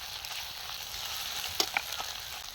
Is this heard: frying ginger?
yes